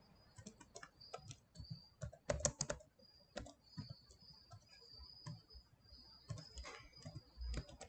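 Fingers tap out an SQL query on a computer keyboard in quick, uneven bursts of close, crisp key clicks separated by short pauses, with a faint high whine in the background.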